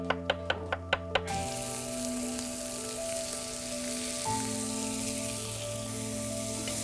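Chopped onion fries in a pan with prawn heads for a seafood casserole, a steady close sizzle that follows a few quick knife taps at the start.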